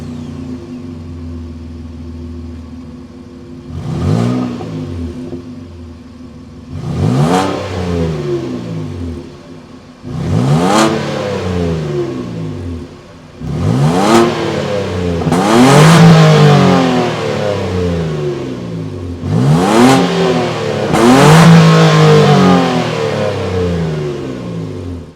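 A 2025 Nissan Frontier Pro-4X's naturally aspirated 3.8-liter V6 revs repeatedly over a steady idle, each throttle blip rising and falling, growing louder and fuller in the later revs.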